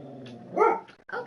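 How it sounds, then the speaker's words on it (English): A dog barks close by, one sharp bark followed by the start of another, loud and alone. "my dog starts barking as soon as I start playing"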